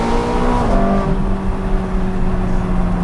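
Ferrari 430 Scuderia exhaust rising on a canyon drive, heard from inside with the window partly down: a loud, rasping engine note climbing in pitch, then dropping as it shifts and settles into a steady roar.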